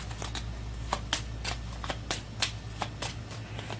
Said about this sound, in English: Shuffling up the turn order deck,